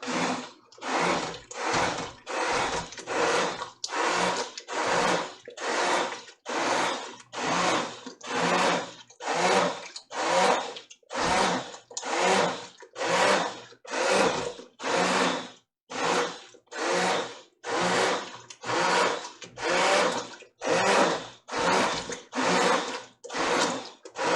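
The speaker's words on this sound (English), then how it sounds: "I'm not going to keep my stick blender in here very long. I'm just going to kind of chew stuff up a little bit." Stick blender chopping cranberry sauce in short repeated bursts, about thirty loud pulses with brief pauses between them, close up and without talk.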